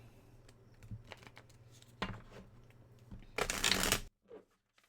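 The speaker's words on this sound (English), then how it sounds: "So, we're going to get to shuffling." Tarot cards are shuffled by hand in several short riffle bursts, ending in a louder, dense cascade of card flutter before it stops, close and clear with no talking.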